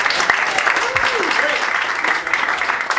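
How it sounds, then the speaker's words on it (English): A comedy improv audience at the Hideout theater claps on cue, a steady wash of applause with a few voices calling out over it. "Please applaud now if you've been to the Hideout before."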